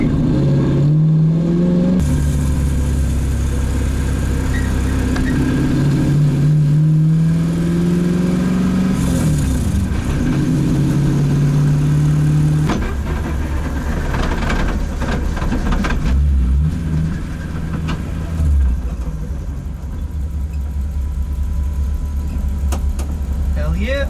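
Lexus SC400 with a manual shifter, driven while the engine drones and shifts through gears near the microphone, steady and loud with changes in pitch from acceleration; a voice is heard talking over it at times.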